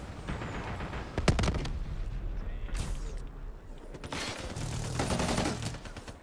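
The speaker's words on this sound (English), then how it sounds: "That guy is definitely shooting at me" Gunfire in the video game Call of Duty Black Ops III, with sharp shots and rattling bursts of automatic fire amid other battle noise, fairly close and continuous throughout.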